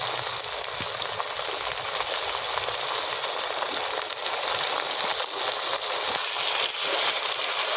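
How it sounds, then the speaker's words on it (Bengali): Ginger, garlic and green chilli paste fries with onions in hot oil, giving a dense, steady sizzle like light rain that holds evenly throughout, close up and alone without talk. "একটু আদা রসুন সঙ্গে ভেজে নেব"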